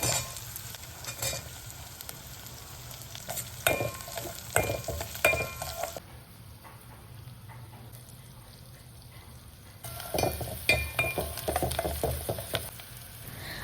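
Cumin, mustard seeds, onion, tomato, chilli, turmeric and salt sizzle in hot oil as a tempering for upma. Loud crackling and stirring scrapes fill the start, go quiet in the middle, then return.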